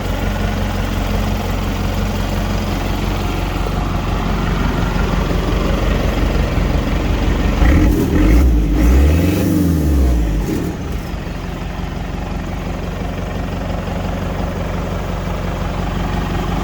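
Rowdy turbo diesel in a center-articulating, chain-drive, air-bagged rig on Rockwell axles, sitting on jack stands: steady rough idle that swells into a brief rev and settles back, close and loud, with no talking.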